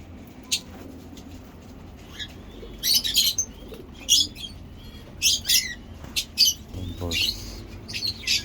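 Pigeons kept in a cold-weather aviary flap their wings in several loud bursts and give soft coos and chirps between them, close by, with no talking.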